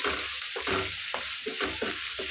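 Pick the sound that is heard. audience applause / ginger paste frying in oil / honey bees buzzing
ginger paste frying in oil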